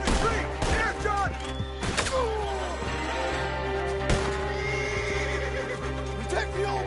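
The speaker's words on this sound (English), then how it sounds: "The horses!" Horses neigh and whinny in a Red Dead Redemption 2 gunfight escape, with clip-clop hooves and thuds under shouted voices and steady background score throughout.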